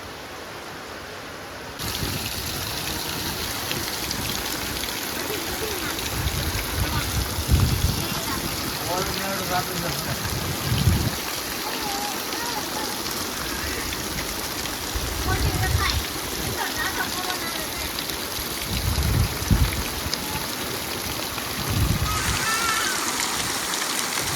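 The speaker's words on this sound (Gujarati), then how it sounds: "એટલો વરસાદ આવે છે બહાર" Heavy rain pours outside onto metal roof sheets as a steady, dense hiss that lasts throughout, broken by a few duller thumps, with a voice talking faintly underneath.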